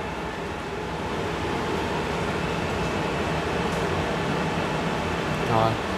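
A fabric printing machine runs with a steady, even mechanical hum and whir throughout, loud and continuous, with a brief clatter near the end.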